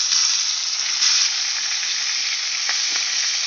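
Chopped onion and okra with carom seeds fry in hot oil for restaurant-style bhindi do pyaza. A continuous bright sizzle carries a few soft stirring scrapes, with no talking.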